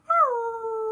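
A person imitates a wolf howl with a single close, loud, sustained voice that rises at the start and then holds a steady pitch to the end, with no other sound around it.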